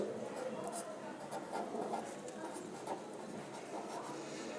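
Steady scratching of writing on a board during a geometry lesson, continuous and close, with a voice talking over it throughout.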